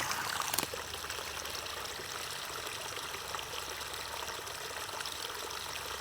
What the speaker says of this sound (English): They'll sure enough hear this water running